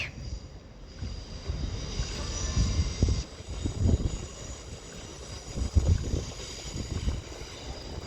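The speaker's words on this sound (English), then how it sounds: "Terminating in here, Manchester Piccadilly now, with a Northern Class 323." A Northern Class 323 electric train rumbles and hums as it rolls into Manchester Piccadilly station, with a steady high whine and low clattering over several seconds.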